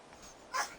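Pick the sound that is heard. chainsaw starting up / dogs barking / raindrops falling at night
dogs barking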